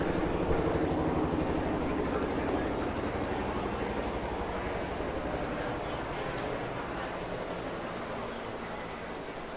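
A Huey helicopter passes overhead at a baseball game between the Eau Claire Cavaliers and Eau Claire Rivermen, its loud, steady rotor drone filling the air throughout, strongest at first and easing slightly, with crowd murmur underneath.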